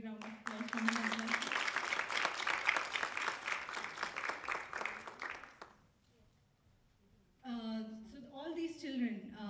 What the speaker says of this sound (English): Give her a big round of applause for him as well.